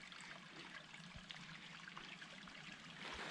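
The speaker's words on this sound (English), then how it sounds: "the water going underground" Water trickles and gurgles softly and steadily as it flows underground in the Superstition Wilderness, a quiet continuous flow with occasional low thumps.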